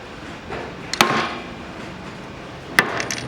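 A hammer strikes a nail set by hand, giving two sharp, separate knocks about two seconds apart, the second followed by a few lighter taps, all close and clear with no talk.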